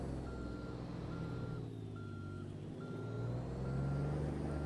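A Kenworth K100 truck in American Truck Simulator reverses with a steady series of evenly spaced beeps over a loud, continuous diesel engine rumble.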